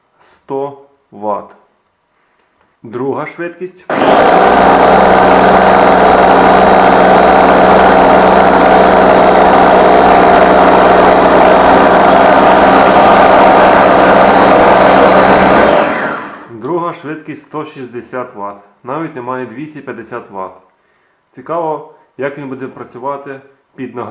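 A Vitek VT 7019 food chopper running at first speed gives a loud, steady motor whine and hum that lasts about twelve seconds. Someone talks briefly before it starts and again after it stops.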